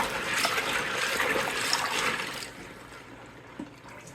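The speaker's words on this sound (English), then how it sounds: "So I actually just empty most of the water out from the top because the outlet valve is way too slow." Water is emptied from the top of a small portable washing machine used to clean LEGO bricks, a continuous splashing pour that runs steadily before easing off into quieter trickles near the end.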